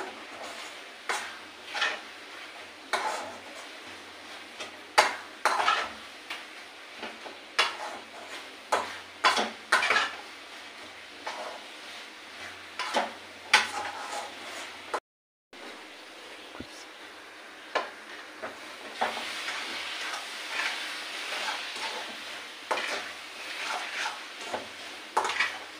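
Lentils are stirred in a pan, with repeated scraping and knocking of a spoon against the pan in an uneven rhythm, over a faint background sizzle, continuing throughout.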